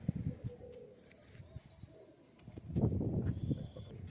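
Pigeons in a large low-flyer loft in Panchagaon, Akola district, give soft cooing calls and faint chirps, with brief scattered calls early on and a denser burst of low coos near the end.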